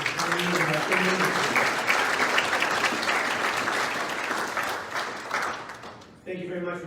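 A crowd at a cardiothoracic surgery medical event gives a full round of applause for a speaker, loud and sustained for several seconds before it tapers off and a voice begins talking.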